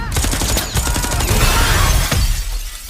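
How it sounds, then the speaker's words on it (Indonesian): Gunfire in an action film scene: a burst of sharp shots and shattering impacts, loud and close, ending in a final crack before the noise drops away. "Kenny akhirnya mengeluarkan sebuah tembakan"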